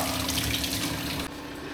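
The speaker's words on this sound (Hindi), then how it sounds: "तो फिर इसी में पूरा फिल कर लेंगे यहीं के आर ओ से" Water from an RO water purifier runs steadily into a bottle, a close, continuous hissing splash that cuts off abruptly near the end, leaving quieter background hum.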